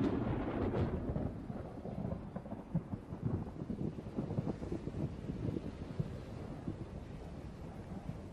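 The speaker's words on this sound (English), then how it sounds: "electrical storms roll across the desert, often shedding only drops of water" Thunder rumbles from an electrical storm over sagebrush desert, a continuous deep low roll with wind buffeting the microphone, steady and fairly loud for the whole stretch with no voices.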